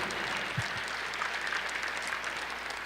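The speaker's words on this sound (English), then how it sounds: "one more big round of applause for all of the finalists here tonight and the winners" Steady applause from a gala dinner audience honoring finalists and winners, a dense, even wash of many hands clapping at moderate distance, sustained and fairly soft throughout.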